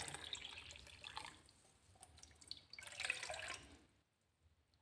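Water runs and splashes in two short bursts as 1.5 cups of water are poured into a pot for jaggery tea, close by, separated by a quieter gap and fading to near silence.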